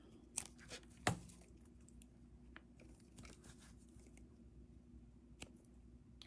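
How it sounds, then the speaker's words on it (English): Cutters snip the excess leather ends off a handmade bracelet: a few sharp, crisp clicks and crunches spaced apart, close and quiet against a low steady background hum. "I'm ready to come in here and trim off my little B-lawn ends. And then I'm also going to trim off the excess leather."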